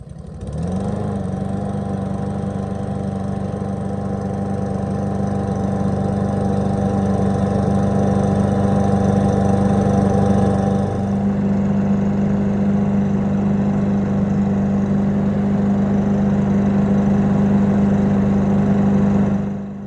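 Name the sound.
Poulan Pro push mower engine starting and running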